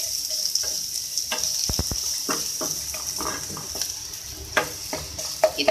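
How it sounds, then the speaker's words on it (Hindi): Carrots fry in oil in a pan for vegetable samosa filling, a constant bright sizzle broken by close spatula taps and stirring clicks, with a couple of sharper knocks near the end. "इसको आप फ्राई कर लें ऑयल में।"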